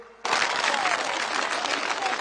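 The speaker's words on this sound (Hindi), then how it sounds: "एक बार जोरदार तालियों से इन लखपति दीदियों का सम्मान कीजिए।" Loud, dense crowd applause erupts suddenly after a brief quiet lead-in and holds steady at full strength, filling an open-air political rally with Modi in Assam as the audience honors women entrepreneurs.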